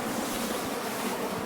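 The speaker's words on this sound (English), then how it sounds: "Yeah, there's a waterfall." A waterfall on a foggy hill hike in Carding Mill Valley gives a steady, even rush of falling water that fills the whole clip, with no voices.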